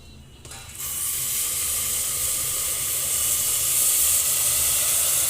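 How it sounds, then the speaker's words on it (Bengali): Hot water hits a pan of frying pulao rice and bursts into a loud, sustained hiss of steam. The hiss begins abruptly after a brief quieter moment and then holds steady, close and strong. "এখন যে গরম পানি দিয়ে দেবো।"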